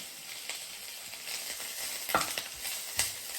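Peppers and onions sautéing in oil in a Le Creuset Balti dish, a steady soft sizzle with a couple of sharper crackles and stirring scrapes near the end.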